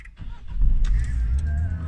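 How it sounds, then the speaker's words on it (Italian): A Citroen Berlingo's engine is started with a key: a brief crank, then the motor catches and settles into a steady, close, low idle. "Vediamo se accende il motore."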